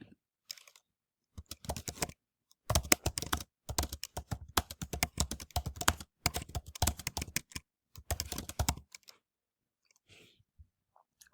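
Fingers tap quickly on a computer keyboard in bursts of rapid clicking, close and crisp, separated by brief pauses and ending in near silence.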